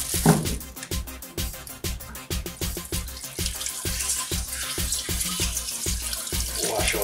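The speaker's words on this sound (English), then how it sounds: "Wash our ginger." Ginger root is washed under a running kitchen tap, with a continuous splashing stream broken by choppy spatters as the root moves through the water. The sound is close and fairly soft, with no talk.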